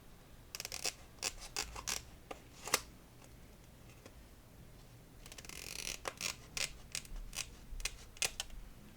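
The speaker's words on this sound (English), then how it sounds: "Oh, I do need to snip those wings." Scissors snip paper wings on a papercraft background piece, a series of close, crisp cuts in irregular clusters with quiet gaps between, faint and alone.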